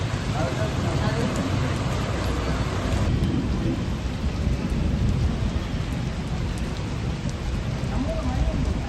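Heavy rain pours steadily in Puducherry, a dense, loud roar of water with low rumbling thunder underneath that continues throughout.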